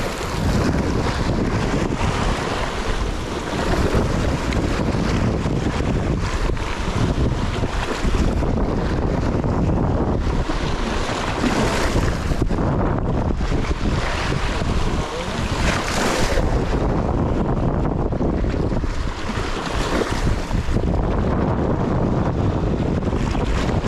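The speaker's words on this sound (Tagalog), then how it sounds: "lumakas na yung hangin" Strong wind roars steadily across open sea around a small fishing boat off Palawan, with waves and water washing close by and heavy buffeting on the microphone throughout, no voices.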